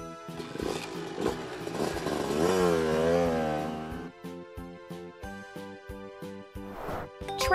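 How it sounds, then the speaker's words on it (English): An engine revs and roars with a wavering pitch, then drops to a rhythmic, sputtering idle before revving again briefly. "Motorbike."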